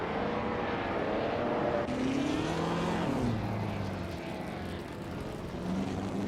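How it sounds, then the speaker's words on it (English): A 1952 Ferrari 375 Indy race car in a racing game: a sustained engine drone with shifting pitch, a rising whine near two seconds and a falling tone after three, steady and fairly loud throughout. "Shadow Army is driving a 1952 Ferrari 375 Indy Dot"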